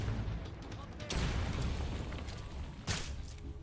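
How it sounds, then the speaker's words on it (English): A grenade explosion in Metal Gear Solid Delta: a faint, muffled boom, then a second blast a couple of seconds later, both under a low, steady game ambience. "That's a grenade."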